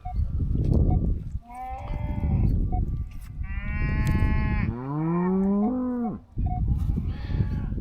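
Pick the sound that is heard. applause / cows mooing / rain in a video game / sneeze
cows mooing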